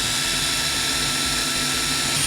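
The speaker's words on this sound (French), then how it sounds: "avec une petite visseuse dévisseuse comme ça, on peut percer tous les trucs qui sont de bricolage quotidien" A small cordless drill-driver fitted with a wood bit bores through a wooden board, giving a loud, steady, continuous whirring whine that holds unbroken throughout.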